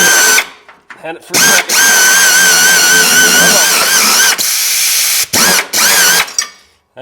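Power tool whirring in sustained bursts with brief pauses while a belt is being replaced under the deck of a John Deere EZtrak Z225 zero-turn mower, someone speaking briefly between bursts.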